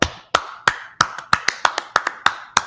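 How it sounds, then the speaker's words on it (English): Steady, evenly spaced hand claps, about a dozen sharp slaps in under three seconds, loud and close with no voices over them, as if a few people clap along on cue at the start of a class. "Clap it up"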